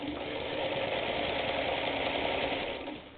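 A Singer sewing machine runs steadily at close range for about three seconds, stitching fabric back and forth over a spot next to metal, then winds down at the end.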